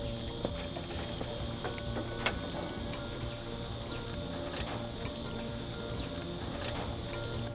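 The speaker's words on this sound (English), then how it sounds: "Check out this water wheel." Water wheel turning in a stream on a rural property, giving a steady continuous wash of splashing, trickling water with scattered drips and small splashes, fairly faint and even throughout.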